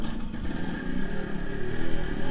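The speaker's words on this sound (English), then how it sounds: "single kick start." A 21-year-old stock Yamaha RX 135 motorcycle fires up and keeps running close by, its engine note a steady, rough, fairly loud chatter with no pause after it catches.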